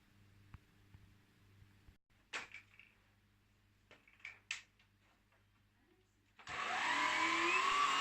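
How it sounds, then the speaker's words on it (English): A Black and Decker Multipro 2-in-1 cordless vacuum cleaner (CUA525BH) switches on near the end with a loud, steady whirring roar, after a few quiet clicks and knocks. "the swivel head on this vacuum cleaner makes it easy to manoeuvre."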